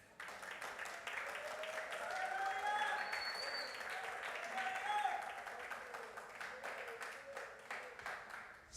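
Church congregation at a Spanish-language teaching service applauds, a broad, even wash of clapping from many hands, heard at a distance with voices and exclamations rising over it.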